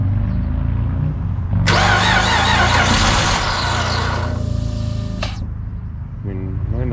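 A Chrysler 300 with a 3.5-liter junkyard engine cranks close by, a steady churning drone that runs for several seconds with a harsh hissing burst over it, and a voice is heard near the end.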